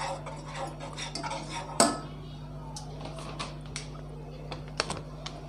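Milk powder being stirred into a hot mixture for chocolate burfi, with rapid scraping and tapping of a utensil against a pan, one sharp clank near the start, over a steady stove hum.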